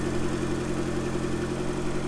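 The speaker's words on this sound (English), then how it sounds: "you can hear how quiet this engine is." Ford Fiesta RS Turbo with its CVH engine idles quietly and evenly, a smooth low steady hum without chatter, heard close and alone.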